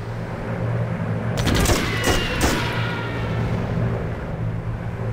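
Aircraft attacking a destroyer in the video game Civilization V: a short cluster of rapid gunfire and impacts in the middle, loud over a steady low engine and water rumble that runs throughout.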